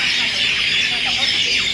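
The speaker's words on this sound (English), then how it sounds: "Can we just appreciate how loud the birds are?" Loud, dense bird squealing and chirping fills the air at a museum, a continuous high-pitched chorus with brief sweeping calls, with faint talk in the background.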